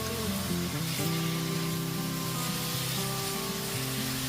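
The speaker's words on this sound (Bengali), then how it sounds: "গ্যাসের ফ্লেমটা মিডিয়ামে রেখে 10 মিনিট ধরে মূলোটাকে খুব ভালো মতো ভেজে নেব" Grated radish frying in a pan over a medium gas flame for a Bengali mulo chhechki, a soft, steady sizzle and hiss with faint tonal hum, quiet and continuous without talk.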